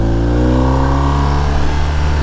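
A 2021 BMW R1250RT police motorcycle with its 1254 cc horizontally opposed two-cylinder boxer engine, close and loud, holding a steady mid-range rev with a smooth harmonic drone.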